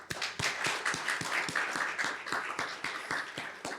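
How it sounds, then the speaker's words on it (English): An audience at an occupational hygiene symposium claps in a brief, dense round of applause, with sharp individual claps standing out over the steady patter. "A round of applause for everybody."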